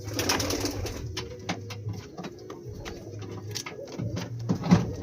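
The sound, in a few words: pigeons cooing in a loft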